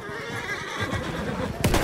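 A horse in the video game Battlefield 1 gives a loud, close neigh, with hoofbeats clip-clopping beneath it and a sharp burst near the end.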